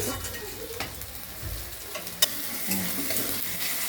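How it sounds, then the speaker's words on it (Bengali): Tomato frying in a pan during chicken curry preparation, with a continuous close sizzle broken by stirring scrapes and one sharp utensil tap, no voices. "এখন টমেটোটা ভাজা হচ্ছে"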